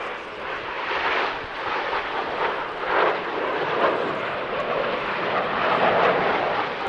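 A Frecce Tricolori MB339 jet roars past at an airshow, a loud sustained rushing engine noise that swells and holds for several seconds, with no voices.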